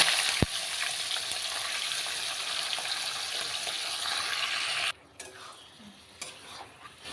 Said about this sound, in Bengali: ফোড়নগুলি ভালোভাবে ভাজা হয়ে গেলে আমরা দিয়ে দেবো ম্যারিনেট করা মাংস।